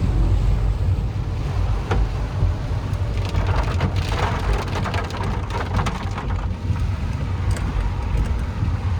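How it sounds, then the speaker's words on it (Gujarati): Steady rain falls outdoors as a continuous broadband hiss with scattered patters, loud and close throughout, with no one speaking. "વરસાદ જુઓ."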